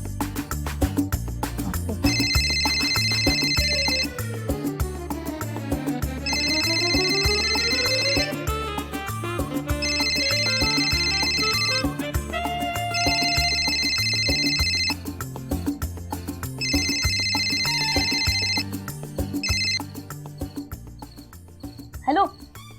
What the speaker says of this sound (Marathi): एंजलला फोन करतो.